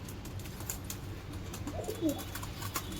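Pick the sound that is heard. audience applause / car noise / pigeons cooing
pigeons cooing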